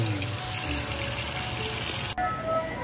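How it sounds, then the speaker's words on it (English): Salmon steak being washed under running tap water, a steady close gush of water for a few seconds that briefly cuts out near the end before continuing more quietly. "Washing for baked salmon."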